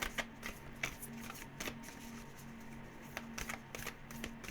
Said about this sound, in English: This deck is so hard to shuffle, it's unreal.